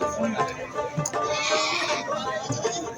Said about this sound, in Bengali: অনেক বড় 2টি খাসি ছাগল দেখেছি বন্ধুরা।